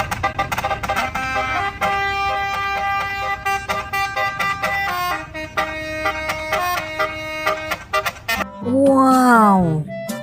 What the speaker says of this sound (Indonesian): ada bus telolet.